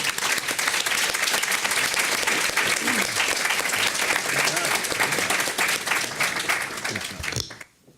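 A large forum audience applauds the panelists in a loud, dense, sustained burst of clapping that holds steady for several seconds, then fades quickly and stops near the end, with faint voices mixed in.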